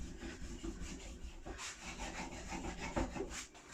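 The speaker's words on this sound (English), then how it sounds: "As soon as I start moving the back of the chisel," Steel chisel back rubbed flat on a green-compound sharpening surface, a steady close scraping and rubbing in repeated strokes with no talk.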